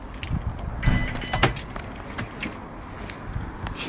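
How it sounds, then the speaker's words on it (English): A Ferrari Mondial T convertible locking itself automatically: a few short mechanical clunks and whirs from the door lock actuators, close and moderately loud over a quiet background, with no talking. "The vehicle auto-locks itself as well."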